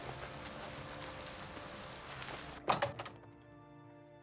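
Rain falling in the video game Oblivion, a soft steady patter that runs for a couple of seconds before a few sharp thunks cut in and the rain drops away to near quiet.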